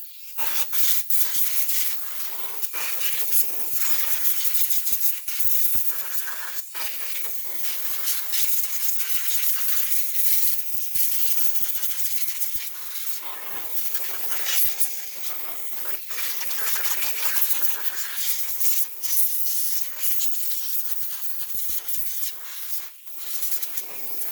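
A continuous loud hiss of blowing air, like a compressed-air nozzle, cleaning out a computerized sewing machine, with brief rubbing and rattling bursts as it moves around.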